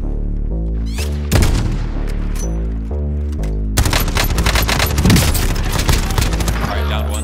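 Heavy gunfire in Warzone, loud bursts of rapid shots near and far that thicken into a dense volley, with no talk over it.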